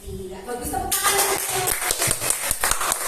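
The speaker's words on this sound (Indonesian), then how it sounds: "Tepuk tangan." Hand clapping and applause from an audience at SD Negeri 3 Kaliranca primary school, a burst of many dense, overlapping claps that starts about a second in and keeps up steadily to the end.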